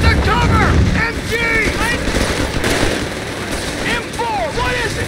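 Loud bursts of machine gun fire from the World War II strategy game Company of Heroes 3, mixed with battlefield din and shouted orders from voices over the top.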